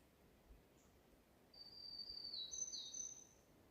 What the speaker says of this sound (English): Listen, there's a black-throated green warbler right out here.